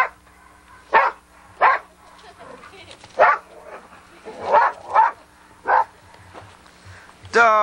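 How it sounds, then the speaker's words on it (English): Dog at a home barking in short separated bursts, about eight sharp yips and barks spread unevenly with brief whimpering in between, fairly close over a quiet background. "Dog's gone mad."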